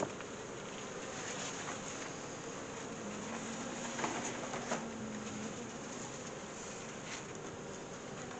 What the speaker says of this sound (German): Sind nicht alles dunkle Bienen hier drin?